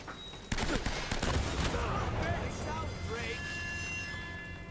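Shotgun blasts in Uncharted: Drake's Fortune, a cluster of sharp loud reports followed by clattering debris and echoing noise that fades over a few seconds, with a voice speaking over part of it.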